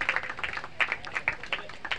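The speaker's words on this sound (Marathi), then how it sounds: "एकदा जोरदार टाळ्या" Crowd applause at a local cricket tournament prize ceremony, a quick steady run of close hand claps rising and falling over two seconds.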